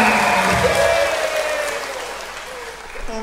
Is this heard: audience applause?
yes